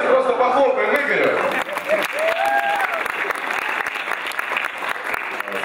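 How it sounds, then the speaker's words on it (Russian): Audience applause for a member of a KVN comedy team on stage, a dense burst of clapping that runs steadily throughout, with a host's voice speaking over it near the start. "Давайте просто похлопаем Игорю"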